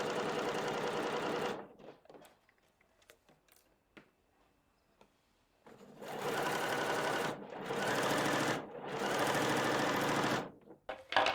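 A sewing machine stitches a cuff with stay tape in three bursts of rapid, even mechanical chatter, separated by pauses with soft handling clicks. The machine is close and loud.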